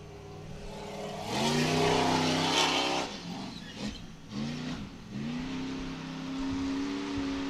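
A race car accelerates hard onto its final lap, its engine note climbing through rising gear sweeps, easing off, then pulling loud again in a sustained high-revving drone, close and dominant throughout.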